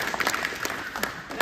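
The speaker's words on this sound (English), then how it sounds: "if you give yourself applause" A community gathering in Springhill, Nova Scotia breaks into applause, scattered claps with a few sharp louder hits rising out of a thin, uneven patter, fairly close.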